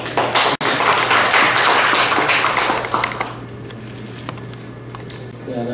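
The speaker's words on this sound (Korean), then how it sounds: "박수로 부탁드리겠습니다" A conference audience at a Korean retina association meeting on AI in ophthalmology applauds a speaker: a dense wash of claps for about three seconds that quickly thins and fades to quiet room tone.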